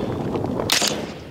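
A single AR-15 rifle gunshot fired outdoors, a sharp bright crack standing out briefly over steady background noise.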